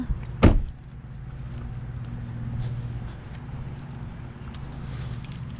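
A car door slams shut once, loud and close, during a garbage-picking outing, followed by steady low engine or ambient rumble with no talk.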